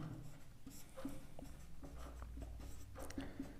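Faint scratching and tapping strokes of writing on a board during a maths lesson, with short irregular marks and no talking.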